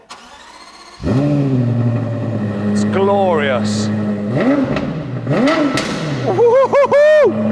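Lexus LFA with a 4.8-litre V10 cold-starts with a sharp crank and catch, then settles into a loud high idle broken by several quick, rising revs and a final flurry of blips, with someone speaking briefly over it.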